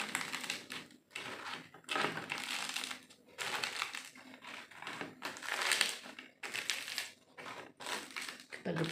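Crispy fried eggs being smashed lightly for Indonesian telur geprek, making a series of close, crunchy crushing and crackling bursts in an irregular rhythm, with no talking.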